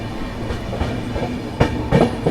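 Valsad–Haridwar Superfast Express rolling along its rails, a steady close rumble with clickety-clack wheel beats on rail joints and a few louder knocks, no voices.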